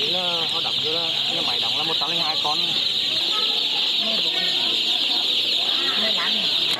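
Chicks and chickens of a breeding flock cluck and peep in busy overlapping bursts, close and clear, while someone speaks over them throughout.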